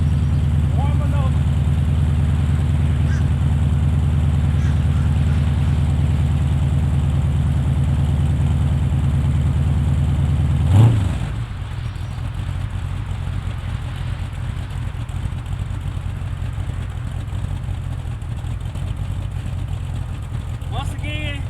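A Chevrolet C10 fitted with exhaust turndowns idles steadily with a low, even rumble, then a brief bump and a slightly quieter idle continues to the end.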